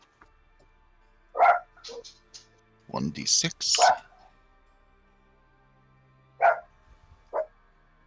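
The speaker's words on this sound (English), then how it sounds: "I hear a dog." A Chihuahua barks in a room during a tabletop game session, scattered high-pitched yaps at intervals, fairly close and moderately loud, with people talking softly around them.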